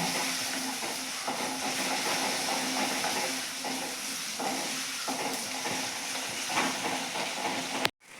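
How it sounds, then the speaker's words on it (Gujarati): Onions sautéing in a pan for a methi bhaji curry, a steady close broadband sizzle and hiss with faint stirring, continuous and fairly loud until it cuts off abruptly near the end. "ડુંગળીને આપણે અહીંયા થોડો કલર બદલાય ત્યાં સુધી સાતળવા દેવાની છે."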